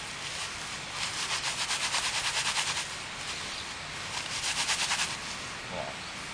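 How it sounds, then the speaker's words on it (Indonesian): Dry grass being crumpled and rubbed between the hands to make tinder, giving bursts of rough, crackly rustling close by, with two longer rubbing spells separated by quieter pauses. "Rumput pun Anda harus remas-remas seperti ini, kemudian digosok-gosok."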